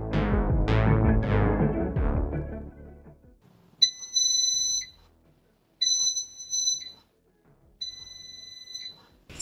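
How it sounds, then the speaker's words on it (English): An electronic chime sounds, then three evenly spaced beeps from a dual-basket air fryer's reminder follow in a quiet room, each a bright sustained tone lasting about a second. "you hear that beeping sound and the shake button starts blinking as well"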